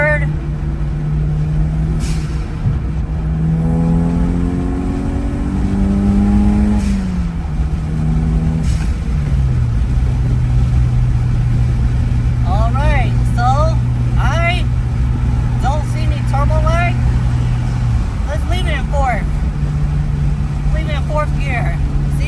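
A turbocharged Toyota Celica GT-Four accelerates in third gear, its engine note climbing steadily as boost builds, loud and close from inside the car, while someone talks over it and whistling turbo sounds chirp through.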